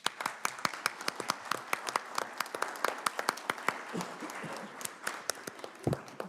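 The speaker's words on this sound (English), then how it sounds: "Big round of applause." A crowd at a Narragansett, Rhode Island town council meeting breaks into sustained applause, with dense, steady clapping running for several seconds before thinning slightly toward the end.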